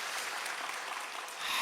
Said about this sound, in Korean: 다시 한번 하나님께 영광의 박수 올려드립니다